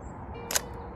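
A single crisp shutter click from a film camera loaded with expired Fujicolor C200, set to 1/125 second, heard once, close and brief in a quiet outdoor setting in Portsmouth.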